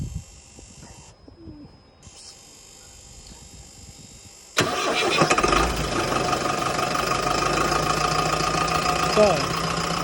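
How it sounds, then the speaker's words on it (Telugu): Tata mini van engine starting abruptly midway after a quieter stretch with a faint tone, then running with a loud, steady rough idle. "సో మనం ఇప్పుడు వెహికల్ని స్టార్ట్ చేస్తున్నాం."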